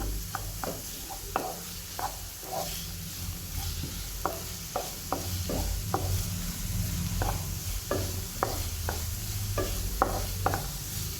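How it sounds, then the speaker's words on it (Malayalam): Onions are sautéed in a pan until brown for bread masala, with a soft steady sizzle broken by repeated sharp spatula scrapes and taps at irregular intervals, close by and with no talk. "ഉള്ളി നല്ല എന്താ പറയുക ബ്രൗൺ കളർ ആവുന്നത് വരെ ഒന്ന് വഴറ്റി കൊടുക്കണം"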